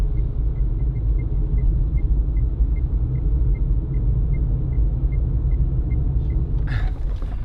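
A car travels a rough back road with a loud, constant low rumble of engine and tyres inside the cabin, joined by a faint steady ticking, and a brief sharper rattle near the end.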